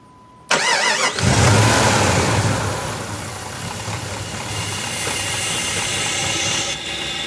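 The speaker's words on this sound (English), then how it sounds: "Then start the engine, let it stall out" A Jeep/Dodge 5.2 or 5.9 liter V8 cranks with a brief starter whine, catches and roars loudly up close, then settles into a rough idle that fades toward a stall.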